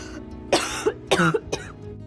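Three harsh coughs in quick succession, close and fairly loud, with short pauses between them.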